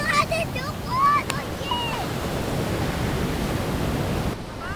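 Ocean surf at Virginia Beach, a steady broadband wash of breaking waves close by, with a few high voices and shouts over it at the start.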